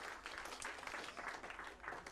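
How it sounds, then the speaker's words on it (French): A church congregation applauds its pastors with dense, steady clapping that stays faint and distant throughout the short moment. "Est-ce qu'on peut les applaudir de tout notre cœur?"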